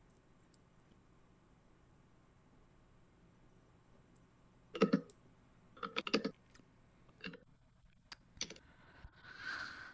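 Quick bursts of typing on a computer keyboard, clustered clicks and taps close by in an otherwise quiet room, separated by pauses.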